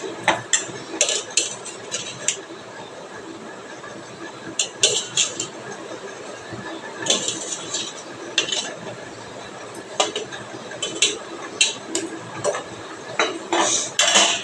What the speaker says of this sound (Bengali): তো এখন দেখো আমি সবজিগুলো দিয়ে দেবো।